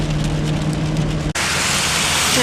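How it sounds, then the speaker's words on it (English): Steady broadband rain hiss with a car driving along a wet back street in Dubai, a brief dropout then a louder rush of tyre spray through puddles, continuous and close. "It does rain here in Dubai a little bit, and it doesn't cope well when we're going through puddles."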